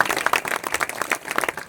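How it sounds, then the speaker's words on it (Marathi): An audience claps for the singers and musicians at the close of a kirtan performance, steady applause with dense overlapping claps filling the clip. "गाणारासाठी वाजवण्यासाठी सर्वांसाठी एकदा प्रेमाने टाळ्या वाजवा"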